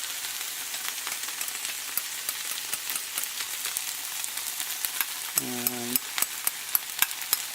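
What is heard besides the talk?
spices frying and being stirred in a pan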